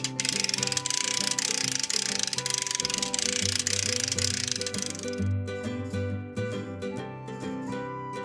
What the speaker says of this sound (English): And doesn't the winch sound great?